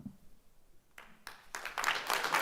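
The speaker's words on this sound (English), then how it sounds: "No clapping, please." Clapping from a school board meeting audience starts after a quiet stretch, a few claps at first, then building quickly into fuller, louder applause by the end.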